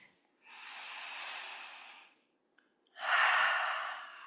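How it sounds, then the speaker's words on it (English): Two long, airy breaths during a yoga practice, a slow inhale followed after a brief pause by a fuller, louder exhale, close and alone with no talking. "Give yourself a recovery breath"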